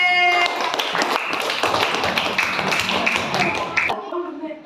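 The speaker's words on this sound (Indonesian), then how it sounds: "Tepuk tangan untuk kelompok D." Classroom applause for a group of elementary students after their oral rehydration solution demonstration, a dense burst of many small hands clapping for about four seconds before stopping abruptly.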